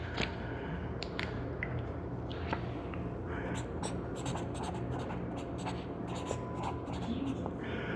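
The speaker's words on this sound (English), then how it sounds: "I'll write the little note." A pen writes a small handwritten note at close range, a continuous scratchy stroke with brief lifts and taps, steady and fairly loud against a quiet room.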